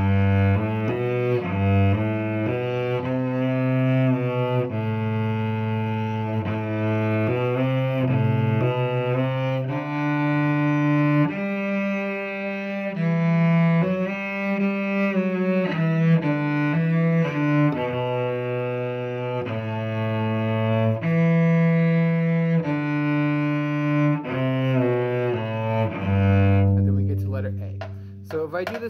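A solo cello plays the Barcarolle from measure 3, a sustained, singing melody with long bowed notes flowing continuously for nearly half a minute, close and clear with no talking.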